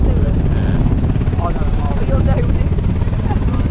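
Helicopter taking off at Caernarfon Airport, a loud, continuous rotor thump and engine roar held steady nearby while people talk over it.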